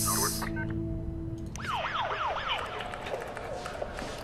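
A police car siren in the SimCity video game wails in several quick rising and falling sweeps after a brief tonal game sound, then fades into busy city background noise.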